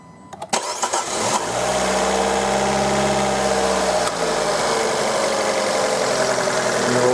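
Fiat 500 engine cranks with a few quick turns, catches, and settles into a steady, close idle with a low hum and a slight knock after an oil change.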